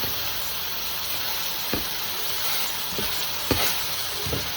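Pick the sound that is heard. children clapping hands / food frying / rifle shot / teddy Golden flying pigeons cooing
food frying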